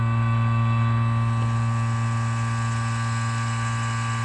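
A Harbor Freight vacuum pump runs steadily while pulling vacuum on a car's A/C system, making a loud, constant motor drone with a strong low hum and no change in pitch.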